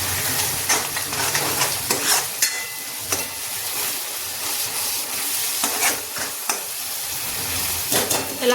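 Spice paste with curry leaves frying in hot oil, a steady broadband sizzle with repeated scraping stirs of a spoon against the pan, loud and close throughout.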